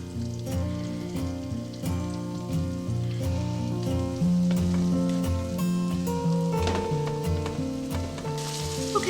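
Chicken frying in butter in a pan, with a steady sizzle running throughout beneath background music and no talking.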